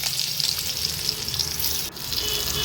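Potatoes frying in hot oil in a pan after shrimp, a steady, close sizzle with crackling throughout and a brief dip near the end, no talking.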